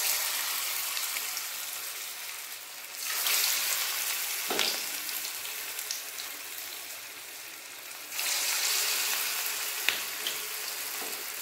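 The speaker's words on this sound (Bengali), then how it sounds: "এরপর বড়া তেলে দিতে শুরু করে দেব" Cabbage pitha fritters fry in hot oil with a steady, bright crackling sizzle that swells louder twice, marked by a few sharp splashes and pops as batter drops in.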